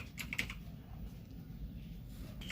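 Faint, quiet keystrokes tap on a computer keyboard as a search is typed into Google Chrome, a few soft clicks near the start over a low steady background hum.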